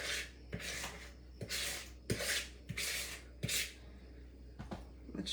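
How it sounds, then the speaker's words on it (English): A spatula scrapes the last cookie dough from a bowl in a series of short rhythmic rubbing strokes, about eight passes with small knocks between them, quiet and close. "I don't know if I'll be able to scrape enough for one more cookie"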